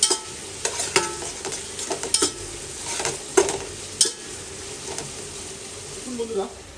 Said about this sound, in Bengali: এখানে আমার পেঁয়াজ প্রায় ভালো মতো ফ্রাই হয়ে গেছে